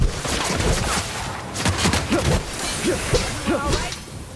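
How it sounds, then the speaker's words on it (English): Bursts of rapid gunfire in The Outer Worlds, loud and close, several dense volleys with sharp cracks and whooshes stacked over a noisy battle backdrop, no clear speech. "Returning fire!"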